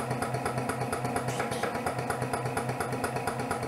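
A Lanaform suction massage device for skin tightening, with a small ball inside, runs close by with a steady motorized drone and rapid, regular pulsing of its suction.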